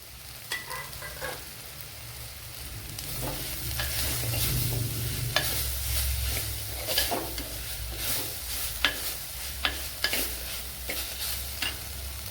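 Finely grated carrot is stirred in a hot frying pan, a steady sizzle under repeated sharp scrapes and taps of a spoon against the pan, close and alone.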